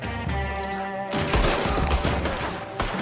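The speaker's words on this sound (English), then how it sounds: "What are those guns they have?" Gunfire in Red Dead Redemption 2 during a fight: a rapid fusillade of overlapping shots, loud and close, beginning after a second of quieter game background and continuing densely to the end, with no talking.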